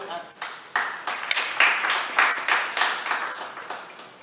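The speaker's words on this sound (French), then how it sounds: "On applaudit s'il vous plaît." Wedding guests applaud at a civil marriage ceremony, a steady burst of many hands clapping close by that swells and then holds for a few seconds, with voices faintly mixed in.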